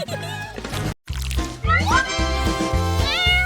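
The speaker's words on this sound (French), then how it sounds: "Voyez le chaton roux le plus mignon du monde." A ginger kitten meows repeatedly at close range, each cry rising and wavering, with a short silent gap early on and faint background noise between calls.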